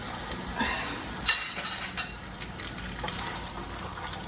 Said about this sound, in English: I'm whisking in cold butter